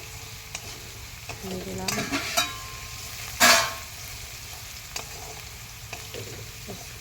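Potatoes and green chillies frying in a pan for a school tiffin, with steady close sizzling broken by a few scraping stirs and one louder clatter, while a voice speaks briefly.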